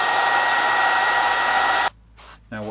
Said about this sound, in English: I sometimes use a hair dryer to get the paint dry